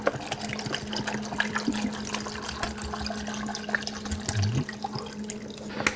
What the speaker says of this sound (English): Now I'm going to pour some apple juice in,